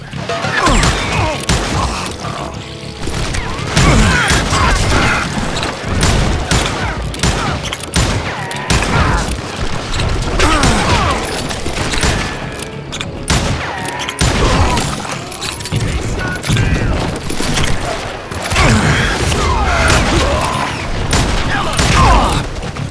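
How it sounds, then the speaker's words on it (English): Rapid, dense gunfire erupts in a Western town street in the Call of Juarez Gunslinger video game, loud bursts and cracks overlapping continuously with crashes and shouted voices mixed in. "They're shooting in the street!"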